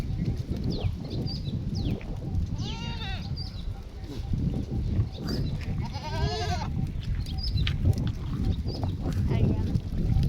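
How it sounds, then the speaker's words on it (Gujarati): Goats bleat in short wavering cries, a couple of loud ones near the middle, over a murmur of voices and outdoor background noise. "મિત્રો કેવા લાગે બકરા."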